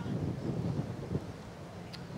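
Wind gusts outdoors at a lawn bowls world championship final, a low rumbling buffet against the microphone that swells and eases unevenly, moderately loud and without voices.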